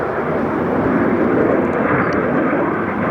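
A Delta Air Lines jet airliner at Detroit Metro airport gives off a loud, steady broadband roar that stays near for the whole stretch, with no talk over it.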